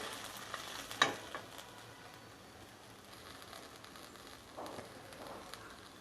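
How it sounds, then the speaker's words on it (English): Red chilies sauté in a pan for Andhra-style onion chutney, soft sizzling and stirring, with a sharp clatter near the start and light scraping sounds later; no one speaks. "Let's saute this for some 10 to 30 seconds just to heat it."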